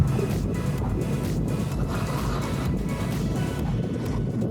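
A Segway-Ninebot MAX G3 electric scooter rides along in cruise control, a loud, steady rush of wind and road noise with a continuous low rumble and no speech.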